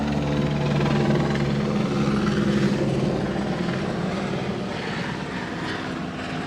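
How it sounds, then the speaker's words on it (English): A helicopter passes overhead in an outdoor East Los Angeles setting, its steady rotor and engine roar loud and continuous throughout, slowly easing off toward the end with no talking. "hold for helicopter"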